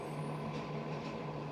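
Garbage trucks idling and working outside, a steady low engine rumble with hissing air brakes, continuous and moderately distant, no talk over it.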